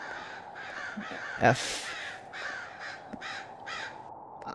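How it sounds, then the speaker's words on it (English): Crows cawing in the video game White Mirror, a run of harsh repeated caws over a steady ambient background, with a brief loud burst in the middle and a voice faintly under the calls. "Jesus, those birds are loud."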